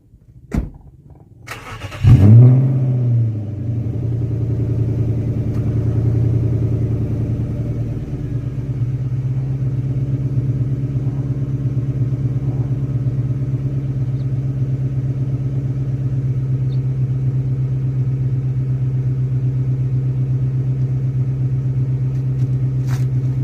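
An Infiniti M45 VK45DE V8 with blast pipes cranks and fires up with a loud rev, then settles into a steady, deep, rumbling idle heard up close.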